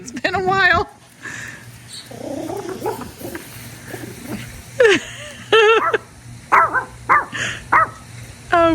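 A small dog greets its owners on arriving home after a trip, letting out bursts of sharp, excited barks broken by whimpers and whines. The dog is close by, and a person speaks at times.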